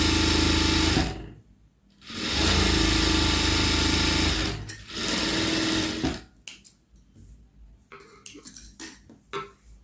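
A sewing machine stitches a quarter-inch folded hem on a blouse sleeve, running in two long steady whirring passes, then stopping and starting in short bursts; no voices.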